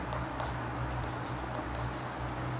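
Chalk or marker writing on a classroom board during a Class IX geometry lesson on triangles, a steady scratchy scraping that runs through the whole moment at close range with no talk over it.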